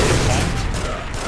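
Dense, continuous gunfire from several weapons in the crime action game The Getaway, a loud, steady crackling barrage throughout with no clear pauses.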